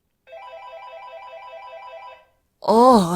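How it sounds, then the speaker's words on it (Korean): An outgoing call from a smartphone rings in a radio drama, one warbling ringback burst of about two seconds, followed by a voice speaking. "병원 밖으로 나가 스마트폰으로 전화를 걸었다."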